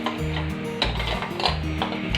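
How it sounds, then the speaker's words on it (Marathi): Spoon or spatula scraping and ticking against a pan while melted chocolate is stirred for a bread chocolate pastry, a steady run of light clinks and scrapes over a low hum of background music. "आणखी थोडा वेळ याला चांगला हलवून घ्यायचं आहे।"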